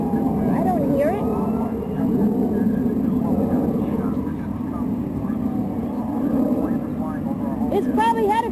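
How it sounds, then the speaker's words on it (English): A fixed-wing airplane drones steadily overhead in a city setting, a continuous low rumble running the whole time beneath nearby voices and street noise. "you hear that plane?"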